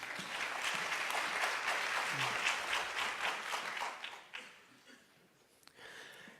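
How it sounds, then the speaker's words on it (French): An audience applauds warmly, dense clapping that holds steady, then thins and fades toward the end with a brief final flurry. "que je vous demande d'applaudir, Johan Stobner"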